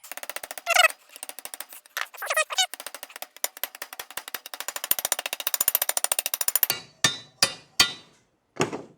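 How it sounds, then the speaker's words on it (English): Repeated metal hammer taps drive a new seal onto a Toyota 4Runner steering knuckle during a long-travel spindle build, a steady close rhythm of sharp strikes followed by a few slower, heavier blows near the end. "now we can get our new seal, and that is going to tap in this direction like that"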